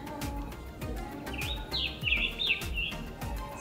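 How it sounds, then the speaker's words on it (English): Scarlet tanager song at a woodland pond in summer, a few hoarse, burry warbled phrases of middling loudness over a steady rhythmic pulsing insect or frog chorus outdoors, no voices. "We have scarlet tanagers visiting."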